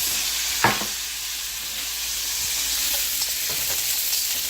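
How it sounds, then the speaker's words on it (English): Celery and carrot sizzle steadily in a hot pan as they fry, a constant close hiss with a few soft stirring knocks and no talking. "We're gonna add the celery and the carrot."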